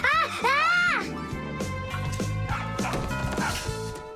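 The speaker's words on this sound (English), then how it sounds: "tell your rabbits that they can stop barking so loudly" Exaggerated cartoon-style barking from rabbits, a few yips up front with rising and falling pitch, mixed with voices and bright effects.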